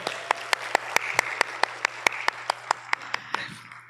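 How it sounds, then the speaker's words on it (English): Audience applause for a dancer and her teacher at a Bharatanatyam arangetram, with a few sharp, evenly spaced loud claps standing out over a softer continuous patter of clapping and a low steady hum. "let's give a big round of applause to both of them"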